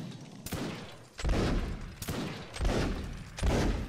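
Gatling gun firing in a shooting game, delivering several loud bursts of rapid fire separated by short pauses, each burst starting with a sharp crack.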